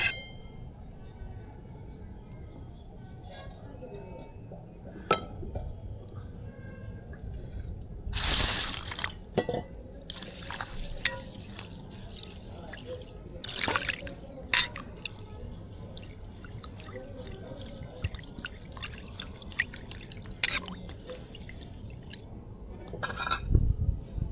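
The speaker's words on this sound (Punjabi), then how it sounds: "ਖੁੱਲੇ ਭਾਂਡੇ 'ਚ ਪਾ ਕੇ ਧੋਵਾਂਗੇ" Moong and masoor lentils being washed by hand in water in an open vessel in a home kitchen: uneven splashes and sloshing with scattered drips, moderately close, a few sharper splashes standing out, no voices.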